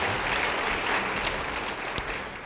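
A church congregation gives a round of applause, a fairly soft but continuous wash of clapping from many hands with a brief sharp knock near the end.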